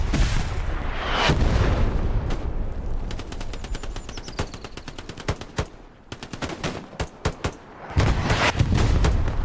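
Heavy gunfire and bomb blasts from a Hell Let Loose battle: dense rapid bursts of machine-gun fire crackle alongside loud booming explosions near the start and end, with sharp, evenly spaced shots in between.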